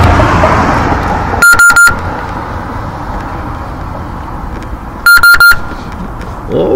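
A car alarm gives two sets of three loud, sharp electronic beeps a few seconds apart after the car is tapped, over steady outdoor background noise.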